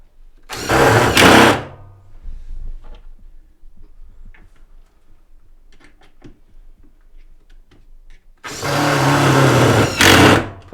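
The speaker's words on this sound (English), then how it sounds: "it's a whole lot easier with an electric screwdriver, so we've given Lou a little percussion screwdriver." A small percussion electric screwdriver drives screws into loft boards in two loud, rattling bursts of about two seconds each, separated by quieter handling clatter and thumps.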